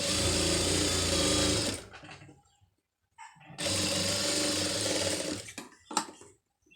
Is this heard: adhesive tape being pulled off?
no